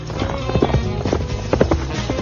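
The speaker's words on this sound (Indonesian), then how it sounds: "Namun saat sedang berkuda," Horse hooves clip-clop in a fast, steady rhythm while the horse is ridden, loud and close, with faint background sound underneath.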